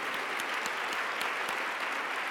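A crowd applauding steadily, dense continuous clapping throughout with no voices.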